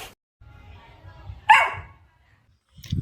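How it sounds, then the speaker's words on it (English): A white dog gives a single sharp bark after a stretch of low shuffling noise, with a brief fainter sound at the very end; nearby and fairly loud. "White dog barking again and again."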